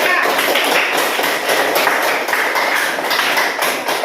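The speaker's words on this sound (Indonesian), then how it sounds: "Dah berikan dulu tepuk tangan kepada kelompok 3." A classroom of students applauding a group, steady rapid clapping from many hands close by, sustained without a break.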